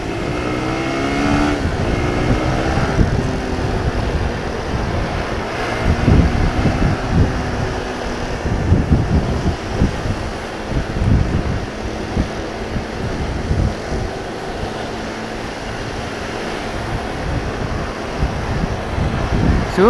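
Heavy road traffic crawls along a congested road where a broken-down truck sits on the right shoulder, heard as a continuous rumble of engines and passing vehicles with steady wind buffeting close to the microphone.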